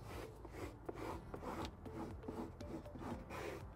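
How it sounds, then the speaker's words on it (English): A squeegee works Xpel protective film onto a Cybertruck frunk, giving quiet, close rubbing and squeaking strokes in an irregular rhythm. "I'm just gonna grab a squeegee, finalize this top surface first."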